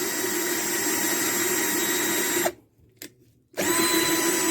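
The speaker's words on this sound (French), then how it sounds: "Donc là, j'ai pris une petite perceuse," A small electric drill whirs steadily at high speed, cuts out for about a second with a brief blip, then spins up again, while holes are bored for a balloon shooting stand.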